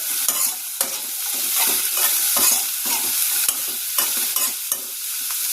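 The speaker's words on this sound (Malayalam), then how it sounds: "എണ്ണ എല്ലാവർക്കും ഒന്ന് പറ്റാൻ പാകത്തിന് മിക്സ് ചെയ്യുക കേട്ടോ." Cassava leaf avial vegetables are stirred with oil in a pan: steady, close scraping strokes over a continuous light sizzle, with no voices.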